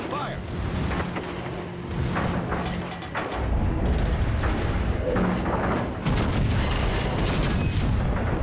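The battleship North Carolina fires its forward guns in World of Warships, heavy booming blasts layered over dense game rumble and battle noise, loud and continuous, with someone talking over it.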